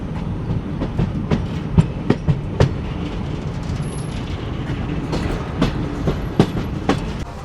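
Gwalior Barauni Mail passenger train rolling along the tracks, heard from inside a second-class AC coach: a continuous rumbling hum with rhythmic clickety-clack wheel knocks over rail joints, fairly loud and steady.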